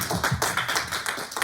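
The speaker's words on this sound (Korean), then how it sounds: "우리 박수 한번 할까요?" A congregation at a Korean Wednesday evening church service claps together in a quick, rhythmic burst of dense applause, brief and fairly close.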